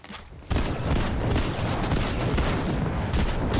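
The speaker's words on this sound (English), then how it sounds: "I'm gonna try to shoot him out of the bush." Rapid bursts of video game gunfire crackle densely after a brief quieter moment, continuing loud and steady with no talking.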